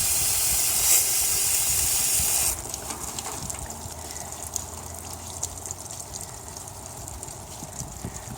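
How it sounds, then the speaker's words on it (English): Water hisses and gushes from the test cock valves on a sprinkler system backflow preventer as it drains before a freeze. The spray is loud and steady at first, then drops to a quieter continuous trickle. "You want to turn the valves on the test cock as well. Don't be alarmed, some water will come out of there."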